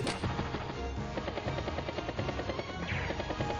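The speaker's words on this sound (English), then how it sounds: "T-copter is down to 0 fuel though, so it's going to drop out of the sky." Helicopter rotor chopping in the Advance Wars: Days of Ruin video game as a T-copter runs out of fuel and drops from the sky, a loud rhythmic thumping with a brief descending whistle near the end, no speech.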